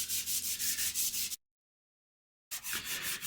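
Synthetic steel wool pad rubbing oil into wood, a close, rhythmic scrubbing in regular strokes that cuts out to silence for about a second before resuming.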